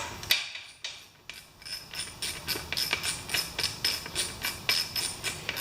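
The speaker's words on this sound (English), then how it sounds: "No, I'm going to have to use a ratchet." Ratchet wrench working the carburetor bolts on a Hyundai generator, a steady run of sharp, close clicks in quick repeating bursts, each stroke a short rattle with brief pauses between.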